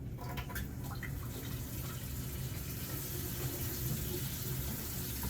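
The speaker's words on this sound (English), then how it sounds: "I'm gonna get a paper towel to turn the water on so that I don't dirty my hands up again" Water running steadily from a sink faucet in a care-skills practice setting, a quiet continuous hiss and splash that goes on unbroken for several seconds.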